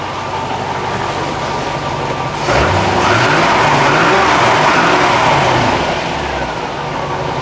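Corvette ZR-1 engine, a barn-find project car after a fluid flush, running close by with a steady loud rumble that swells briefly midway and then settles back toward idle.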